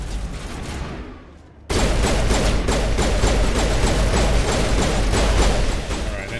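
Automatic turret fire in the Mass Effect game, a dense, loud, continuous stream of rapid gunshots kicking in abruptly after a quieter stretch and sustaining to the end.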